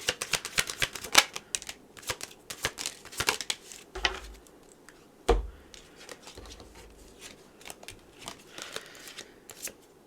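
Tarot message cards being shuffled by hand, a close, steady run of crisp riffling and slapping card sounds with a few louder taps and thumps, no talking.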